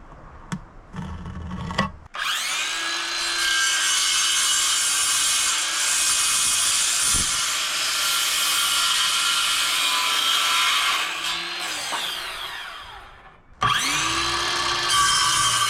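A power saw cuts through wooden frame boards to half their thickness for lap joints in a dirt-floor shop, with a long steady whining cut of about eleven seconds, a brief lull, then another cut starting near the end.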